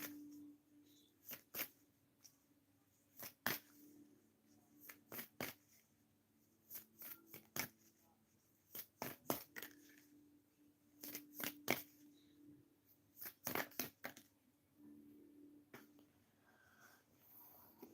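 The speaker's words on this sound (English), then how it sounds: "Let me shuffle some cards." Tarot cards riffled and shuffled in quick bursts of crisp, close snapping clusters, repeating irregularly in a quiet room with faint breathing between.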